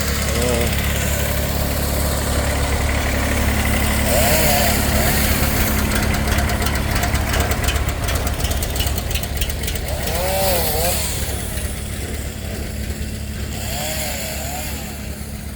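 A cold small engine, likely a mini tractor or chipper, runs steadily and loud close by during plot clearing, a constant rough drone with faint wavering tones and brief bursts of rattling clatter, while a person talks over it.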